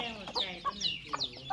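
A mother hen with young chicks clucks in short, repeated bursts of varied pitch, fairly close and prominent, with no talk over it.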